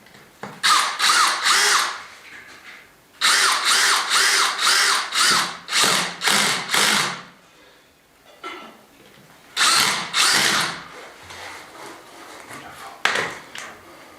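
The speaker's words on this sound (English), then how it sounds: "I can get them drilled, get the plugs in" A power drill bores holes into a wall for plugs in loud, close bursts of rapid hammering, several runs of a few seconds each separated by short pauses.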